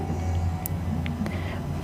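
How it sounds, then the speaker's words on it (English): Steady low engine rumble and road noise heard from the back seat of a moving car, with a few faint clicks and rattles. "you're in the back of your parents' car coming home from a Christmas party"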